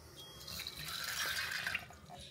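Water poured into a bowl of dry boxed macaroni, a steady splashing fill with a bright hiss that rises and fades over about two seconds, close by and alone.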